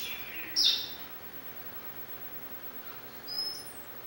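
Birds chirping outdoors, two brief faint calls roughly three seconds apart over a quiet background hiss.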